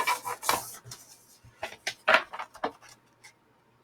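Scissors snip out a marked piece of material at a jewelry craft bench, a series of close, crisp cuts and rustles in irregular bursts, fading to quiet at the end.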